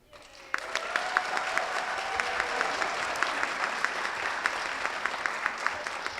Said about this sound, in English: please feel free to applaud each of them graciously with loud, thunderous applause